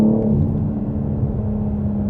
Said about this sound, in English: the burbles and everything are literally the active sound